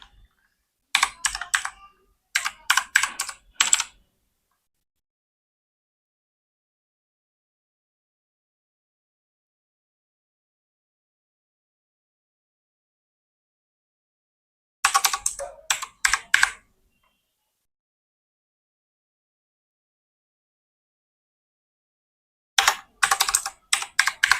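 Typing on a computer keyboard: three short bursts of quick, close key clicks separated by long silent gaps.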